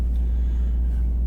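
The 2018 Mercedes-AMG E63S Wagon gives off a deep, steady engine rumble, loud and close, holding an even low drone throughout.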